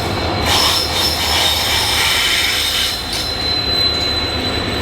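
A lone Indian Railways locomotive rolls past without carriages, a loud, steady rumble of wheels on rails with high metallic squealing running throughout, close and continuous.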